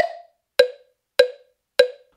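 Four single plucked guitar notes, each landing on a root in a melodic rock chord-targeting exercise, ring out one at a time at an even pace and decay quickly, heard clearly and alone.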